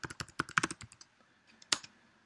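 Quick bursts of computer keyboard typing, a cluster of close, crisp key clicks followed by a pause and one final sharp tap.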